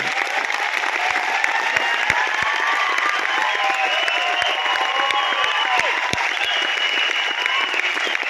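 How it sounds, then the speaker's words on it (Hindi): An audience claps in a hall during a business training session, a dense, continuous round of applause that stays loud and steady throughout, with some crowd noise and faint voices mixed in. "एक बार दिल से ताली बजाएंगे"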